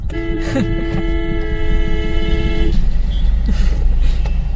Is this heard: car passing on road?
yes